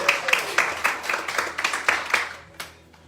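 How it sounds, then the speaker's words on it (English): A church congregation claps for the pastor, sparse and uneven with individual hand claps standing out, thinning to a few last claps near the end. "Give him a round of applause."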